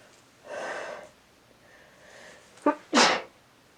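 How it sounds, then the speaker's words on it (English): A breathy inhale builds up, then a sharp, loud sneeze bursts out near the end, close by. "I'm going to sneeze"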